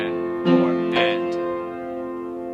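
Piano notes mimic a phone ringing at the end of a song: a sustained chord with two or three bright, quick repeated accents, played fairly softly and alone.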